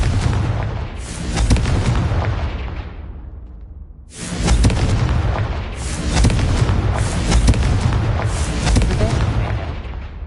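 Fiery Confringo spell blasts from Hogwarts Legacy erupt as loud, rumbling booms, one burst fading into a near-silent gap before a fresh run of dense, crackling explosions rolls on continuously.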